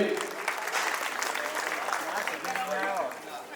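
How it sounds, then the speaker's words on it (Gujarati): Applause welcoming the APMC Karjan president at a New Year Sneh Milan gathering, a steady crowd clapping throughout with voices mixed in and tapering slightly at the end. "એમને તાળીઓના ગડગડાટથી આપણે વધાવીએ."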